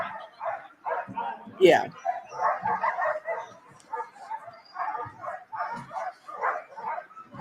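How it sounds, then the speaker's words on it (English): Sled dogs bark and yip at the Iditarod ceremonial start in Alaska. Scattered barks and whimpers rise among a busy crowd, with people talking nearby throughout. "Look how big that one dog is compared to the other one."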